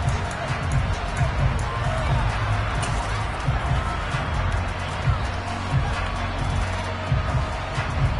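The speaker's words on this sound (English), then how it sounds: "the crowd getting into it as we come up on a big 3rd down" Crowd noise fills a football stadium late in the fourth quarter of a one-score game ahead of a big third down, a steady roar of cheering throughout with a commentator talking over it.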